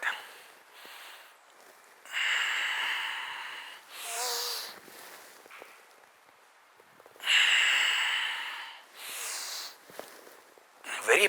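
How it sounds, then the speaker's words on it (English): Pranayama box breathing exercise: slow, deliberate breaths in and out, airy hisses rising and fading in long cycles with quiet holds between, close and clear. "Very powerful breathing exercises. These are pranayamas, powerful box breathing techniques."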